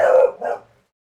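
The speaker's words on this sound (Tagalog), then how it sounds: "pasensya na po sa aso." A dog indoors at home gives two quick, loud barks close by, then goes quiet.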